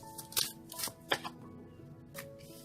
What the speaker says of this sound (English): One more shuffle, they say.